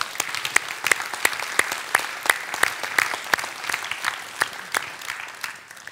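A civic ceremony audience in Florange applauds Marc Barthelet as he comes on stage. The claps are fairly sparse and distinct, with several sharp individual hands standing out in a loose rhythm before fading at the end.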